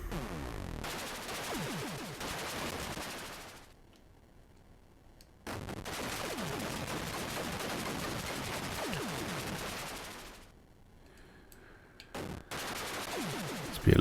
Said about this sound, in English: Be a little more conservative with the shooting.